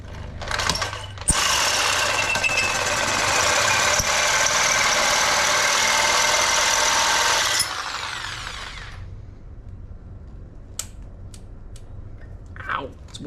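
Reciprocating saw cutting through metal while fitting an 8HP gearbox to an N54 engine with a turbo kit, a loud, steady buzzing grind lasting several seconds that then stops, followed by a few light clanks and a voice talking.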